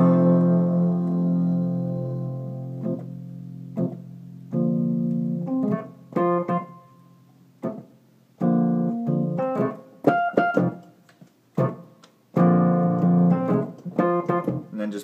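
Solo piano moves from a held final note into a new groove, with chordal phrases entering in bursts and separated by short pauses, played close and fairly loud with no talking.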